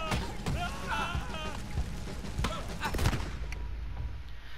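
Gunfire in Red Dead Online: several sharp shots crack at irregular intervals over a low rumble, fairly quiet overall, with a voice talking between them.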